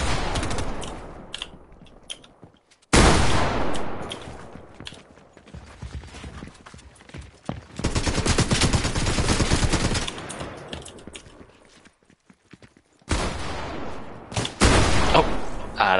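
Gunfire from a weapon in the video game Fortnite, loud bursts of rapid shots in several clusters separated by quieter stretches of game noise.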